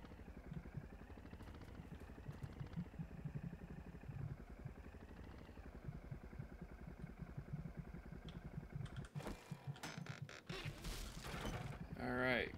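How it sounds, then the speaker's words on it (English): Vehicle motor throttling in the survival game 7 Days to Die with the Undead Legacy mod, a steady engine drone with rhythmic revving and clattering, loud and close, then a burst of harsher clanking noise near the end. "It's kind of throttling the motor here."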